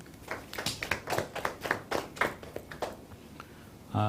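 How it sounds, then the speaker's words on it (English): An audience claps at a talk on financial trust and investing, a patter of scattered hand claps that builds briefly and then thins out, moderately distant and without voices. "A round of applause to him"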